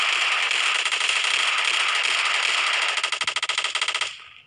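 Frag grenade explosion in PUBG Mobile: a sustained loud crackling, rattling burst lasting several seconds that breaks into rapid stuttering pops before cutting off.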